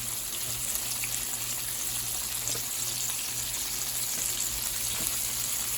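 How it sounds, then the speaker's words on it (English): Chicken frying in hot grease gives a steady, quiet sizzle and crackle, an even hiss that continues without pause and with no talking over it. "You don't want to drop it too high and the grease splash back in your face."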